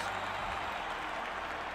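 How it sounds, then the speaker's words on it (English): A tournament crowd in the medieval combat video game Chivalry 2 cheers and claps, a dense continuous roar of many voices and applause held at a steady level for a moment. "tournament crowds."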